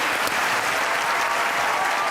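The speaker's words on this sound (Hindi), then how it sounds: "आपकी भरपूर तालियों में ख़वातीन हज़रात, सही है, सलमान गिलानी।" A studio audience at a comedy talk show breaks into loud, dense applause, a continuous roar of many hands clapping close by, with no talking over it.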